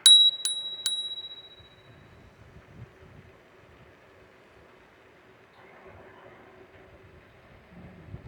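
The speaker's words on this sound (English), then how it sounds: "Hit the bell." Three quick rings of a bicycle bell on an Ecoroad EC8 at the start, bright and close, then a quiet outdoor background with faint rumbling.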